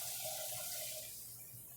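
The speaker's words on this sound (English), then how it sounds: "Let me get a little water on this." Water running from a kitchen tap while baking an olive loaf, a steady hiss of flow that softens slightly toward the end, with no talk.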